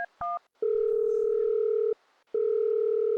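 A telephone line gives a couple of short dialing beeps, then a steady dial tone that cuts off briefly and resumes, clean and alone.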